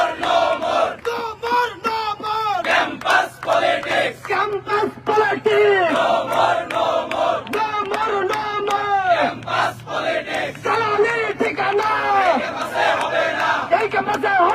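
A large crowd of university students at a campus rally chants political slogans in rhythmic call-and-response bursts, loud and close, repeated phrase after phrase.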